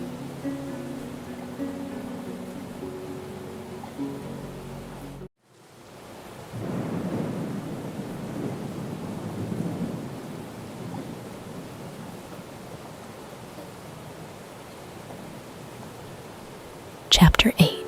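A thunderstorm with falling rain: steady rain hiss throughout, then a long, deep rumble of thunder that swells and slowly fades, ending in a brief louder crackle.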